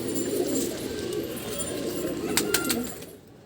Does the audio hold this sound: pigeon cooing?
yes